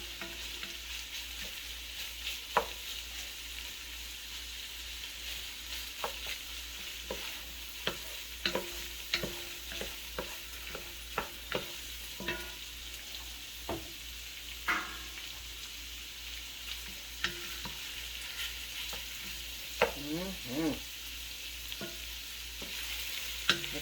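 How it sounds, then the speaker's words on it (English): Cabbage and smoked sausage frying over raised heat, a continuous sizzle broken by repeated scrapes and clacks of a utensil stirring the pan, close and with no talking. "I turned the heat up. It's going to fry up a little bit."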